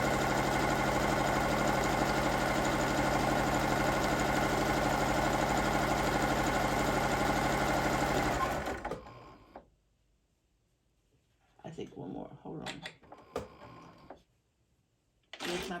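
A sewing machine stitches placemats, a steady loud mechanical whir that runs for about eight seconds, then stops, followed by quiet with a few short handling and fabric-shifting noises.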